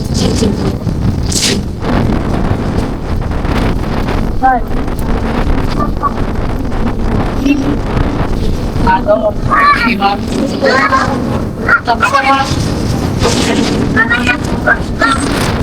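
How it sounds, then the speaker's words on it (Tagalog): Strong wind buffets the microphone with heavy, gusting rumble and roar throughout, while people talk intermittently over the blustery noise. "Ang lakas ng hangin."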